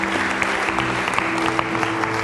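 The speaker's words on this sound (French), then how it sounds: "Applaudissez le Seigneur." Congregation clapping during a French-language Sunday church service, dense continuous applause from a crowd, loud and even, with a low sustained tone beneath.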